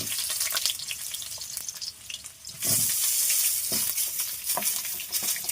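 Potatoes sizzle and fry in a pan while a utensil stirs them, with steady hissing and scraping, louder frying in the second half.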